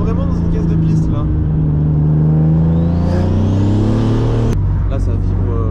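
Car fitted with reinforced engine and gearbox mounts revving up from low rpm, a loud, vibrating in-cabin engine drone that climbs steadily before dropping with a shift, with someone talking intermittently over it.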